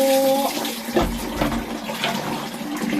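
Water runs and pours steadily during a bath, a close, continuous splashing gush that carries on throughout.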